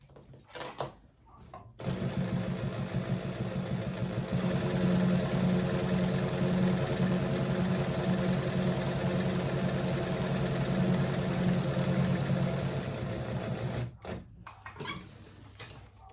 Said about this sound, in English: I've just stitched that down with about 1/8 of an inch seam allowance across the bottom there